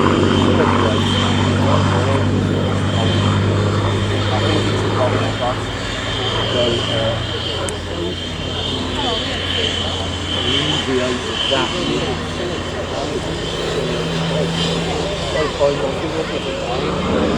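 Eurofighter Typhoon jet flying at a Royal Air Force airshow, a loud continuous roar that holds steady throughout, with people talking over it.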